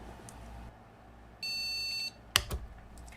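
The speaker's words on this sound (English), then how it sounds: "you heard those beeps" A single sustained electronic beep sounds from a computer with an undetected Sapphire RX 6800 Pulse graphics card, then a short sharp chirp and a few clicks follow over faint background hiss.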